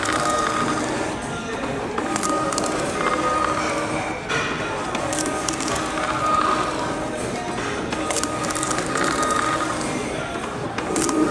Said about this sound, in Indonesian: kalau seandainya thermal printer ini memang lebih cepat